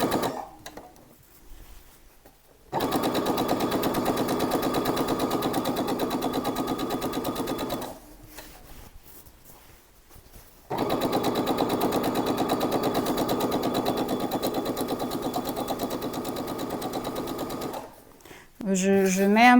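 A sewing machine stitches the back seam of a pair of trousers. It runs in two long, steady bursts of rapid mechanical whirring, with short quiet gaps between them. The sound is close and fairly loud.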